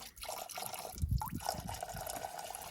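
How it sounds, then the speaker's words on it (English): Fluid drains from an old Ford 3000 tractor into a pot, a soft continuous trickle and splashing with occasional drips and a bubbly gurgle, close and fairly quiet. "Let's leave that to drain now into that same pot."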